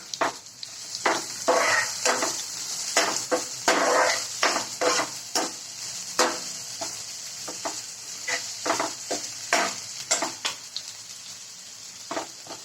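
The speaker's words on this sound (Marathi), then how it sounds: "आता यात आपण बारीक चिरलेला कांदा टाकून घेऊया." Finely chopped onion sizzling and being stirred in a hot oiled pan while cooking vada pav filling, with steady frying hiss and repeated clinks and scrapes of a spoon against the pan.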